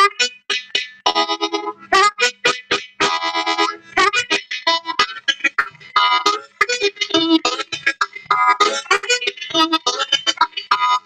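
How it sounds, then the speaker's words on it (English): A harmonica played in a percussive style, smacking the reeds while drawing, produces choppy chugging bursts and short stabbing notes in an uneven, driving rhythm. It is close and loud, with no talk. "what he does is what I call smacking the reeds"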